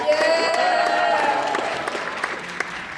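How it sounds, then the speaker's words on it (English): Applause from an audience greets a blue demon costume at a costume contest: a burst of steady clapping with faint cheers that gradually fades toward isolated claps. "Give this blue demon a round of applause."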